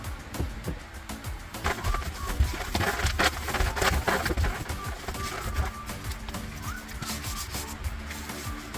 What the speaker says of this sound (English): Any excess that you might have oversprayed, just work it in, rub it in by hand.